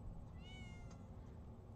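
A cat in the video game Children of Silentown lets out one brief, faint meow midway through, over a low steady background hum.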